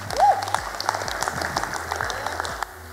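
An audience at an awards ceremony honouring contributors to women's cricket claps and applauds steadily throughout, a dense continuous patter of hands with a faint voice near the start.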